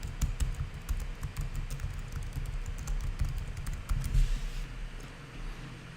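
Keys on a computer keyboard clatter steadily as a label is typed, a continuous run of fast close taps over a low background hum.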